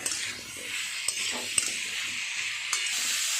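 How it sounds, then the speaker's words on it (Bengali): Potatoes sautéing with spices in a pan for Bengali aloo posto, a steady low sizzle under occasional stirring scrapes and light clinks of a utensil against the pan. "আর একটু ভালো করে কষিয়ে নেব মশলার সাথে আলুগুলো"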